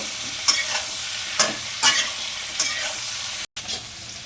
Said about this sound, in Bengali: এখন একটু নাড়াচাড়া করব।